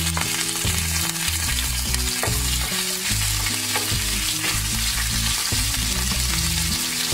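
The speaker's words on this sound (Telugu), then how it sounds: "ఆవాలు వేగాక ఈ చెక్క, లవంగం, బే లీవ్స్, యాలకులు కూడా వేసేసుకోవాలి." Mustard seeds, cumin, cinnamon, cloves, bay leaves and cardamom frying in hot oil for carrot rice, a steady close sizzle with crackles and pops throughout, overlaid by continuous background music.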